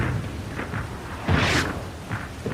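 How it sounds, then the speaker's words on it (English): A single heavy explosion aboard the warship HMAS Sydney bursts out over a low rumbling background, a loud booming blast that swells and then fades back into the rumble. "there was an enormous explosion, and Sydney trembled in the water"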